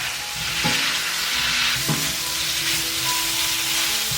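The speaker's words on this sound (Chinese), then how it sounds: "融化了之后，把牛腩放进来炒香" Beef brisket sizzles in melted butter in a hot pot, with a constant loud frying hiss and a couple of soft knocks as the meat is stirred around.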